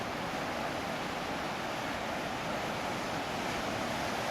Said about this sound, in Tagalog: Kung papansin niyo, ito yung dagat, talagang ang lalakas ng alon.